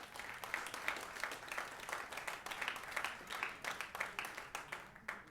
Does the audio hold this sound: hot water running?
no